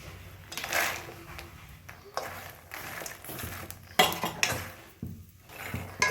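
Fox nuts (makhana) are tipped into a pan while making goond laddoos, giving a series of close metallic scrapes, clatters and clinks of utensil against pan in irregular bursts.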